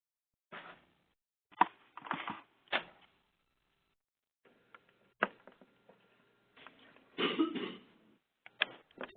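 Person coughing and clearing their throat in short bursts separated by silences, close to the microphone, with a few faint clicks and handling noises in between.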